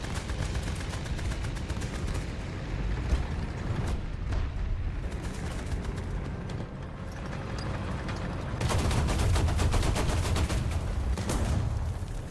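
Tank gunfire from a British tank in War Thunder mixes with a steady battlefield din of rapid shots and distant blasts, growing louder and denser near the end as an enemy is hit.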